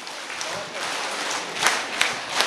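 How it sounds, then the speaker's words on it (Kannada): Members of a self-help group gathering at a village development meeting clap together, a brief burst of applause with a few sharper claps standing out near the end. "ಎಲ್ಲ ಸದಸ್ಯರು ಯೋಜನೆಯ ಚಪ್ಪಾಳೆ ರೆಡಿ 1 2 3"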